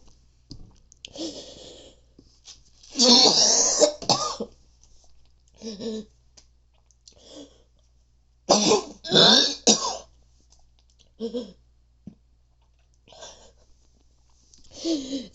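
A person coughing and gagging loudly in harsh, strained bursts, with two heavy fits separated by shorter coughs and throat clearing, close up with quiet gaps between.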